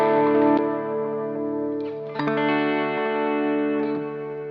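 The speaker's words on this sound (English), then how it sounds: "So here is series with delay and reverb." An electric guitar rings out in sustained chords drenched in echo and reverb, with delay and reverb pedals in series, repeats trailing behind each strum and a second chord struck midway.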